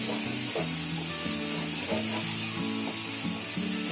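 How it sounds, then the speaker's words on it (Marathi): Grated fresh coconut filling cooking and being stirred in a pan, a constant close sizzle with a soft rhythmic scraping of the spoon repeating every half second or so, steady and moderately loud. "असं 2 मिनिटं चांगलं ढवळत राहायचं"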